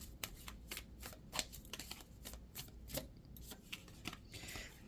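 Antiquities of Magic oracle cards being shuffled by hand, a close, steady series of quick papery riffles and flicks with no talk.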